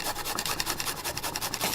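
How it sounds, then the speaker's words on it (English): A medium garlic clove is grated on a rasp in quick, even back-and-forth strokes, a close, dry scraping rhythm repeating about six times a second with no voices. "And 1 garlic clove. And it's better to grate it"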